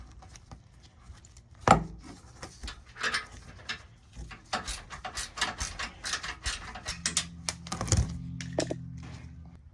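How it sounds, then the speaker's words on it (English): A 14mm ratcheting wrench works a nut on a 2021 Tundra bumper, giving quick, close clicking ratchet strokes in uneven bursts with a few metallic knocks. "We're going to go ahead and remove this inner nut here with a 14mm ratcheting wrench as well."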